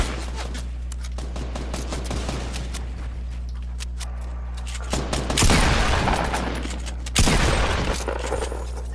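Gunfire in the Fortnite video game, rapid bursts of automatic shots with a couple of heavier booming volleys, loud and continuous over the whole stretch.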